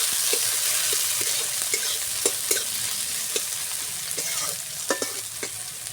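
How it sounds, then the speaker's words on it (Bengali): Chopped onion frying in hot oil in a kadai, a dense close sizzle with regular spatula scrapes and taps, no voices. "তেল গরম হয়ে গেছে, দিয়ে দেবো পেঁয়াজ কুচি।"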